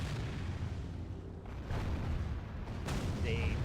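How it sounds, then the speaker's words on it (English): Cannon towers firing in the medieval strategy game Medieval II, a few booming shots over a constant battle rumble, with game voices heard faintly. "Cannon towers are so good."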